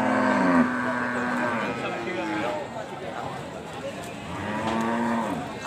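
Several cows moo loudly at a cattle market, long drawn-out calls one after another, over a steady background of crowd murmur and ambient noise.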